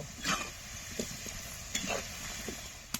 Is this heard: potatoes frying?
yes